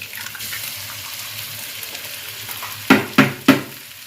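Eggs go into a hot pan for a Thai stir-fried cucumber with egg and shrimp, sizzling softly and steadily, followed by three sharp clattering stirs of a utensil against the pan near the end.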